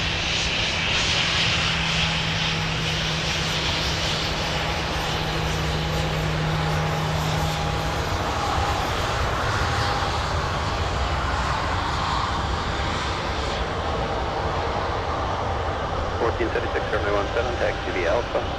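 A Sun Country airliner in simplified livery taxis at Minneapolis–St. Paul airport, a steady, droning engine rumble that holds throughout, with a voice talking over it.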